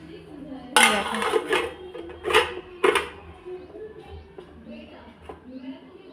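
A lid clatters onto a cooking pot of cumin rice set over a low gas flame, three or four sharp metallic clanks close by with scraping between them, and a quiet hum of the kitchen underneath.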